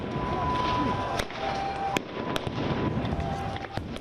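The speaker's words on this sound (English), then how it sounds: "Israeli forces firing rubber-coated steel bullets, tear gas and sound bombs at Palestinian worshippers." Sound bombs and rubber-coated bullets fired by Israeli forces at a mosque compound, several sharp, separate bangs at irregular intervals over a dense crowd roar with shouting voices.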